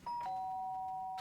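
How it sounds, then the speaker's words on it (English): A doorbell rings with a bright two-note ding-dong, the second tone sustaining steadily in a quiet room. "The sharp sound of the doorbell pierced my sleepy haze"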